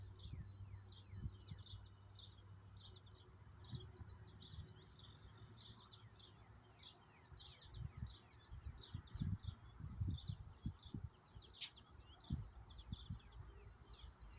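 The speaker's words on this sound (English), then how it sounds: "You can hear them chirping in the background" Several birds chirp and tweet in the distance outdoors, quick high calls scattered throughout, with low rumbling thumps underneath.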